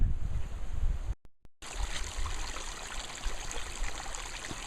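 Water rushes steadily at Ashford Falls, a broad continuous outdoor roar heard up close, broken by a brief dropout of near-silence before the flow resumes just as strong.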